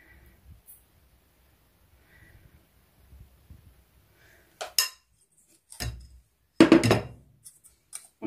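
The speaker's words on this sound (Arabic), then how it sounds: "وغنجيب الخليط اللي بالكاكاو، ندير واحد المعلقه كبيره" A spoon scoops cocoa cake batter into a pan for a zebra cake, with a few clinking and scraping metal strikes against the dish that grow louder toward the end after a quiet start.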